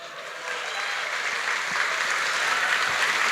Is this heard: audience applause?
yes